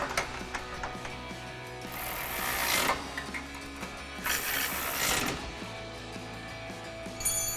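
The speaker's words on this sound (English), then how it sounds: "we'll grab our ratchet with a 13 millimeter socket and then a 15 millimeter wrench to hold the back" Ratchet with a 13 mm socket tightening a nut on a Jeep Wrangler JL nerf bar bracket, with quick bursts of clicking at close range and metallic handling noises in between.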